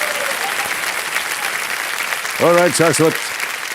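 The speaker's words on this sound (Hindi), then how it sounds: "एक बार फिर जोरदार तालियां बज जाए" Studio audience applause on the KBC quiz show, a dense steady clapping wash filling the clip, with a voice speaking briefly over it near the end.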